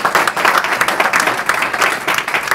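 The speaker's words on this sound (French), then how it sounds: "On peut vraiment applaudir" Audience applause fills a short burst: dense, steady clapping from a room of people, moderately loud and continuous throughout.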